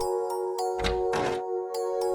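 Knocking on a wooden door in a children's cartoon comes as a few dull thuds in a short cluster over a steady background music tone.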